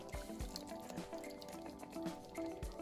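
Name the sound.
water being added to a cooking pot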